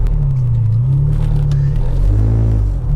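A Ferrari cruising unhurried on a wet track, a deep steady engine drone with a slight lift in pitch toward the end, loud and close from inside the car.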